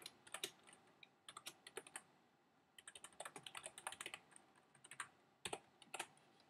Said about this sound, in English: let me type it up really quick.